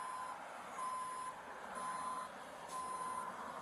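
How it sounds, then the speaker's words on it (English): Reversing beeps from a tow truck in a video game, a steady series of evenly spaced electronic tones repeating over a low engine rumble, fairly quiet with no speech. "your car's now getting towed."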